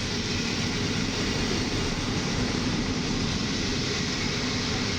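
Intercity train 18103 Podlasiak pulling in to track one at platform six of Warszawa Zachodnia station, a steady, loud rumble of wheels and engine with broad continuous roar and no talk.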